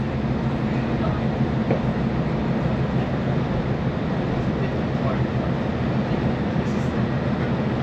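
Steady rumbling of a Great Western Railway passenger train running in Devon, a constant dense roar with faint rhythmic rattling throughout, fairly loud and close.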